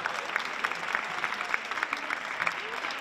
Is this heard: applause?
yes